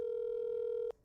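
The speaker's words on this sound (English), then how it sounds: "so you're going to hear the phone ringing right now." A single steady telephone ring tone heard over speakerphone, one sustained electronic beep that holds evenly then cuts off abruptly near the end, leaving quiet room noise.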